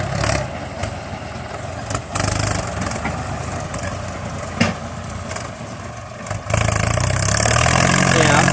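A Ford 6600 tractor engine runs at a steady idle, a loud continuous mechanical rumble with a few sharp knocks, then the note rises and strengthens near the end.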